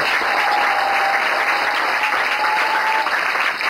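A congregation at an evangelistic campaign service claps hands and cheers in praise, a dense, steady wall of applause that holds at full strength from start to finish.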